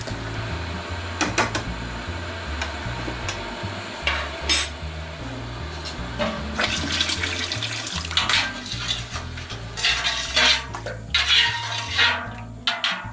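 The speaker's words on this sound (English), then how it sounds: "get all of this out of here with some boiling hot water" Boiling hot water pours and splashes continuously while brewing banana beer, with clinks and knocks of pots and utensils, over a low rhythmic background hum, with no talking.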